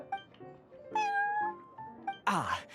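Prince the cat meows in Genshin Impact's Cat's Tail, several short close meows followed by a longer drawn-out one and a rougher, noisier yowl at the end.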